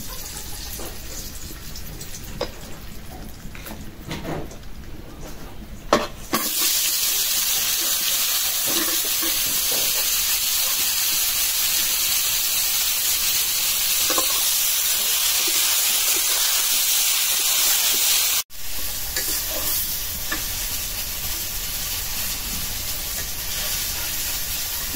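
Eggplant slices fry in hot oil in a village kitchen: a bright, steady sizzle starts suddenly after a few quiet clinks, runs loud for about twelve seconds, then drops to a softer hiss.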